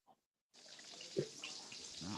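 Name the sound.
running water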